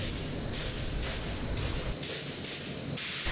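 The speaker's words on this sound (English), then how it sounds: "I'm also spraying a violet candy and I'm also going to spray a gold candy over this chrome on this helmet." Mini spray gun spraying violet and gold candy paint over chrome on a helmet: a steady close airy hiss that pulses on and off in short bursts, with no talking.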